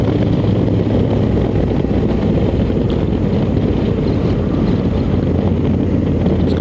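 Riding a 2024 Honda Africa Twin DCT adventure motorcycle on a highway, with a loud, steady roar of engine and wind buffeting the microphone throughout, no talk.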